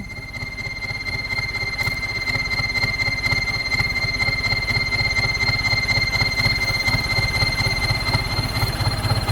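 A Ford 6640 tractor diesel fitted with an HX40 turbo idles steadily nearby, a pulsing low engine chug with a thin high turbo whine holding constant throughout.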